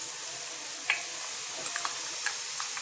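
Grated carrot tossed into a hot pan of vegetables and sausage for spaghetti, giving a steady soft sizzle with a few light spoon clicks and stirring taps spread across the moment.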